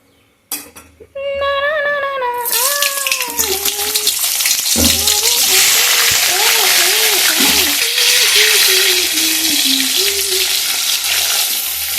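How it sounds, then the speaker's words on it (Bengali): Oil heated in a kadai bursts into loud, steady sizzling and crackling for lentil fritters (dal bora). A melodic voice sings over the frying after a brief quiet start. "এই তেলে ডালের বড়াটা ভেজে নেব।"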